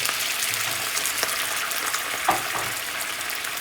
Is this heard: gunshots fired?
no